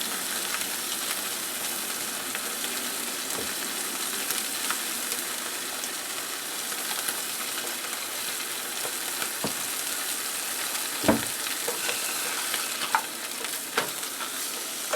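Food browning and sizzling in a hot frying pan while a Honduran breakfast is cooked, a steady bright hiss with occasional faint stirring clicks, close and continuous, no talk.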